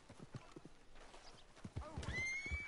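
Horse whinny and clip-clop hooves from a video game, a short run of hoof thuds under faint chatter, then a rising neigh that ends in a loud high, tailing squeal.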